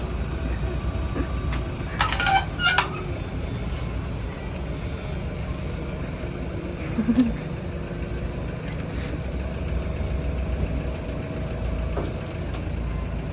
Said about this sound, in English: so let's take you out into our van now